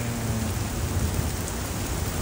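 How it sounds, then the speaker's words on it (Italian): Hail pelts down onto outdoor surfaces and garden plants in a steady, dense, even clatter, close and continuous from start to finish, with no voices over it. "No, non sono bolle. È grandine."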